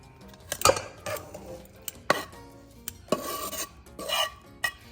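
Pancit noodles being stirred in a bowl, giving a series of close, irregular scraping and clinking strokes of a utensil against the dish with soft rubbing between them.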